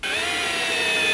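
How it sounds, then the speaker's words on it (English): A power drill driving screws into wooden fence-post boards for a plant box, a steady loud high-pitched whine running continuously without a break. "We're going to put them up, we're going to screw them down"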